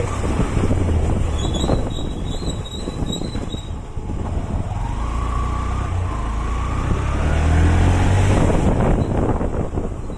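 A train passes a level crossing between Avinashi and Perumanallur, its wagons rumbling and clattering close by with squealing wheels and wind buffeting the microphone, the sound building louder toward the end.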